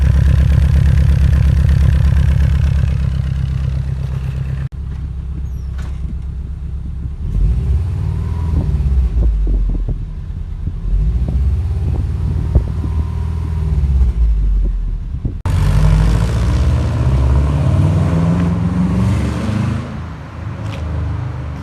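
A Subaru Impreza 2.5RS GC8 with a Tsudo exhaust running nearby, its boxer engine idling with a deep, loud rumble and occasional revs rising and falling.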